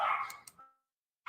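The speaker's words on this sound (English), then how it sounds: "Sorry for the dogs." Dogs bark indoors during a podcast recording, two or three quick, sharp yips close together, fairly faint, followed by a brief silence and the onset of another bark.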